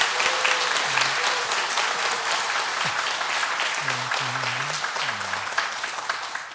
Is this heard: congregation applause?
yes